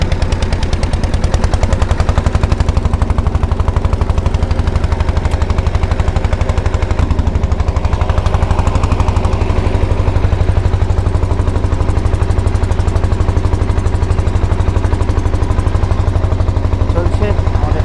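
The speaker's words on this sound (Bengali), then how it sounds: "চলছে আমাদের ট্রলার।" A fishing trawler's engine runs at sea, a loud, fast, relentless diesel thudding that dominates throughout, with a voice faintly under it.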